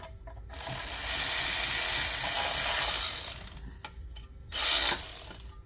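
A socket wrench with an 8 mm socket ratchets bolts on a Porsche ZF 7DT PDK transmission, giving a long, close, fast clicking run of about three seconds, a pause, then a second shorter burst.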